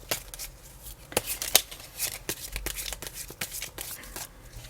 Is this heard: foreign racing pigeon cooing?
no